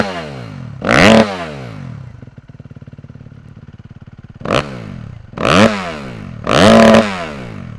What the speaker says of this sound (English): I'm out here testing the Yoshimura RS-4 exhaust system on the 2019 Suzuki RM-Z250.